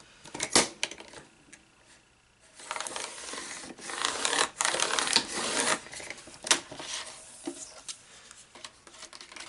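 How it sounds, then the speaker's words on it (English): Paper or cardstock being cut an inch down for a planner cover, heard as a sharp crunching slice near the start, then a longer stretch of scraping, rustling blade strokes, close and fairly loud with no talking. "I'm just going to cut an inch off"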